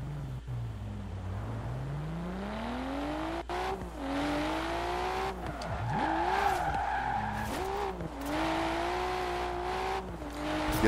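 A Nissan R33 Skyline drifts in Forza Horizon 4, its engine note climbing and falling in long sweeps while tires squeal steadily through the slide, loud and continuous with no talk over it.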